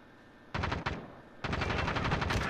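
Bursts of automatic gunfire in Call of Duty: Modern Warfare, loud and close: a short burst, a brief pause, then a longer sustained volley.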